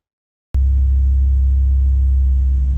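After a brief silence, a 2.5-litre diesel recovery truck engine rumbles steadily and loudly at close range, a deep continuous drone with no voices.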